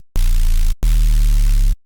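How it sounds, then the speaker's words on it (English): Two bursts of heavily distorted sub bass smeared with white-noise hiss, a short note then a longer one, loud and gritty with a deep booming low end. "that really characteristic kind of white noise distorted sub bass that a lot of people are looking for right now"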